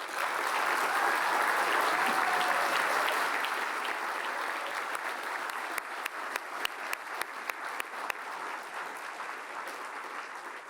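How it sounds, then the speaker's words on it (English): An award ceremony audience gives a round of applause, full steady clapping that gradually thins into scattered individual claps over about ten seconds. "hope that you will stand for a round of applause"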